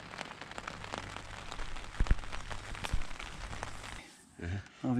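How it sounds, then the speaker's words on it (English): Steady rain patters on a surface during night fishing, with scattered drops and taps, then fades as a low voice murmurs near the end. "It's raining again."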